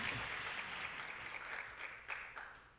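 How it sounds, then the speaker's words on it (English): Audience applause at the Asian Universities Alliance Youth Forum 2019 closing ceremony in Colombo, Sri Lanka: a steady, fairly faint wash of clapping that lasts the whole stretch, with a few sharper claps standing out near the end. "Shall we put a big round of applause once again?"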